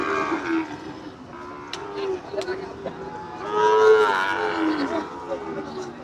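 Cattle, including Shahiwal bulls and calves, moo repeatedly amid the murmur and chatter of a busy livestock market, with one loud, drawn-out low call standing out midway.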